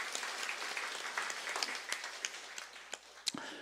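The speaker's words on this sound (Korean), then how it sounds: "하나님 앞에 영광의 박수 올립니다" A church congregation applauds during a Sunday worship service, a dense wash of many hands clapping with sharper individual claps popping out near the end, steady and fairly loud throughout.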